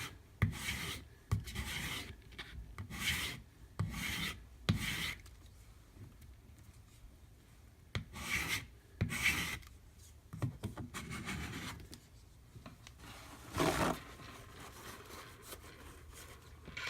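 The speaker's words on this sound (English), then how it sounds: "I've got it dried on this plate. I'm just going to take a plastic putty knife" A plastic putty knife scrapes dried diamond paste off a plate in repeated rough, raspy strokes, close up and fairly loud, with short pauses between passes and no talk.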